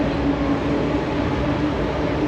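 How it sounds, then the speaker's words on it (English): Steady rumbling roar of a train passing near Circular Quay in Sydney, continuous and fairly close throughout, with no talking. "Is that a local train or does it go a bit further?"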